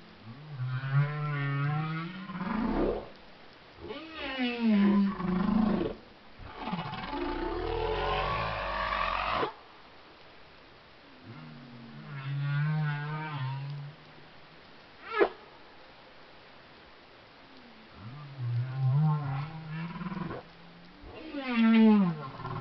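Humpback whale vocalizations made by air moving between oesophageal sacs: long moaning, whooping calls with rising and falling tones, several separate phrases with short gaps, fairly loud and close, with no talk over them.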